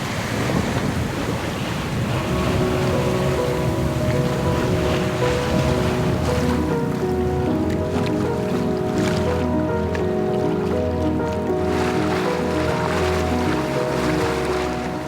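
Steady wind roar and rushing waves surround a sailing boat approaching an anchorage beneath high land after squally weather, loud and unbroken throughout, with a faint tonal hum underneath.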